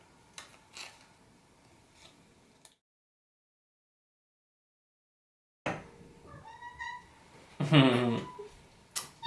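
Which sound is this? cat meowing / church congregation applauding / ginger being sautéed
cat meowing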